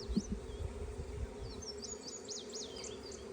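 A honeybee swarm buzzes in a tree as a steady, close insect drone, with a few faint bird chirps above it.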